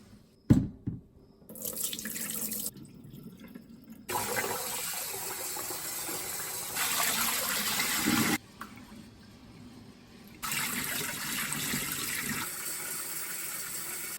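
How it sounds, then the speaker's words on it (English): Rice being washed and rinsed under a running tap, 4 kilograms of it before brewing red yeast rice wine: steady gushing water into a sink in several long bursts, broken by short pauses and sloshing. "So start with 4 kilograms of rice. Wash and rinse for 15 minutes."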